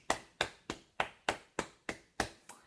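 Students in a high school classroom clapping for a substitute teacher, nine sharp, evenly spaced claps of a single pair of hands, fairly faint, no talking.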